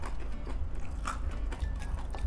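Crushed peyek crackers eaten with instant noodles and grilled lime chicken at a mukbang, heard as close, soft crunching bites and chewing, faint and steady with no talk.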